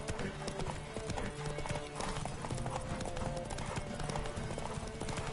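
A horse gallops in The Witcher 3: Wild Hunt on PS5, a dense, continuous drumming of hooves running loud and close throughout.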